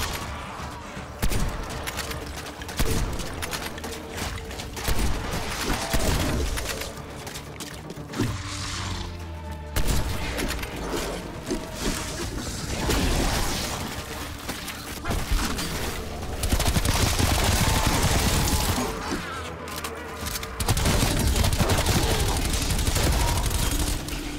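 Repeated gunfire from a weapon in the video game Die Machine, a long run of loud shots and bursts with mechanical clatter, continuing through the whole stretch with brief lulls.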